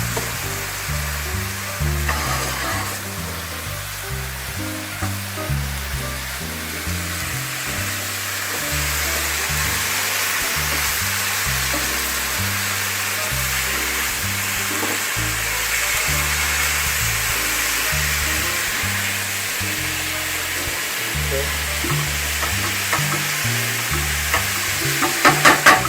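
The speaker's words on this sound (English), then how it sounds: "Now we're going to add in the shrimp right on top." Shrimp sizzling in a hot pan during a chicken and shrimp stir-fry, a loud, steady frying hiss that goes on without pause, with rhythmic stirring and clattering underneath and no talking.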